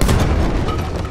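A grenade goes off in Battlefield 1, a deep booming blast up close that rumbles and fades over about a second with no other sound.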